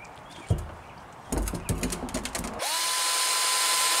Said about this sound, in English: You just have to drill a hole in the middle.